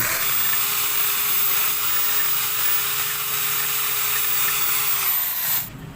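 A drill grinding flush the cut bolt on a Raider 150 motorcycle cylinder head: a loud, steady high-pitched whine that runs unbroken for about six seconds and then stops abruptly.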